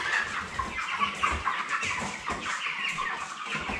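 A flock of Cobb-500 broiler chickens, around thirty days old with large cockerels among them, clucking and calling continuously in a busy poultry house. The chatter is close and dense, with no talk over it.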